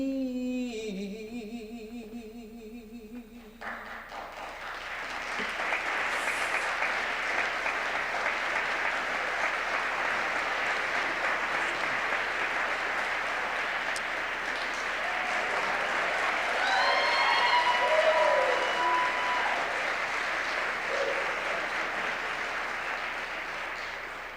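Sustained audience applause for a theater troupe at an arts awards ceremony follows the end of a sung line, a full, even crowd clapping that swells slightly and carries on for over twenty seconds.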